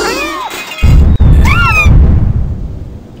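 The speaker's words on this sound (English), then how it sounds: "So many cats." Several cats meowing in the video game Quadrilateral Cowboy, with high, rising and falling meows in two clusters over a loud low rumble that starts partway through.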